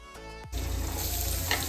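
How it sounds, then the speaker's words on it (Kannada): Chopped onion dropped into hot oil for a tempering, bursting into a loud, steady sizzle that fills the pan after a brief quieter start, with no talking. "ಈರುಳ್ಳಿ ಹೆಚ್ಚಿ ಒಗ್ಗರಣೆ ಹಾಕಿ"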